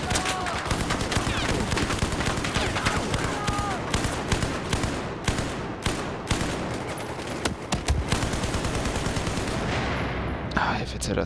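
Heavy gunfire from a mounted gun in the first-person shooter Battlefield 4, an almost nonstop, dense barrage of shots and explosions for most of the stretch, with talk buried in the din.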